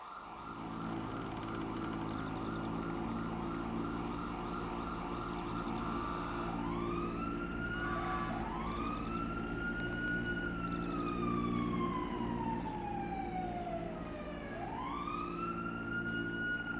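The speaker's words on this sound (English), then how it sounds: "I hear police sirens." Police sirens in the video game GTA 5 wail and rise over a steady low rumble, several overlapping sweeping tones growing more prominent as they approach, with no talking.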